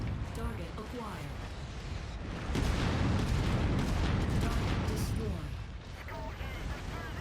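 Sustained mech weapon fire in MechWarrior 5, a dense, continuous roar of blasts and rumble lasting several seconds and peaking loudly in the middle, with a voice talking over it at times.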